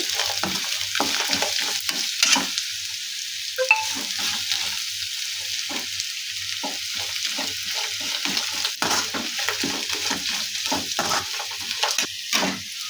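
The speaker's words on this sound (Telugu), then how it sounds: "క్యారెట్ కూడా బాగా దూరగా వేయించుకోవాలి బాగా లో ఫ్లేమ్లో దీన్ని బాగా ఫ్రై చేసుకోవాలి" Grated carrot frying on a low flame, an even background sizzle under frequent rhythmic scraping strokes of a spoon stirring in the pan, close, with no talking.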